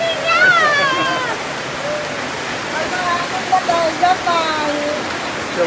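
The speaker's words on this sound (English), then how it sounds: "it's raining" Steady rain in the Philippines hisses continuously in the foreground, with birds chirping and faint voices in the background.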